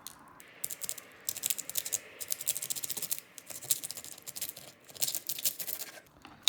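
A knife cuts straight across a cooked Dungeness crab shell, giving dense runs of close, crisp crackling and scraping in repeated bursts with short pauses between them, and no voice.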